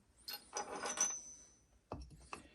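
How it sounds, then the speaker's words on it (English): Metal Forstner drill bits are set into a wooden storage block, giving a few faint scraping and rubbing clunks in short bursts, close by with no talk. "let's put all the drills in, all the Forstner bits in"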